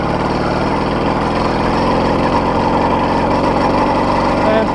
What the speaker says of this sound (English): now I'll rev the engine, then let the clutch out gently.